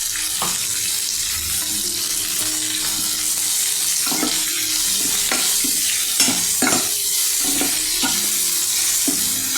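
Chopped onion frying in a pan for a Bengali prawn cutlet, a steady loud sizzle broken by repeated clinks and scrapes of a spoon stirring, with some running-water noise in the background and no talking.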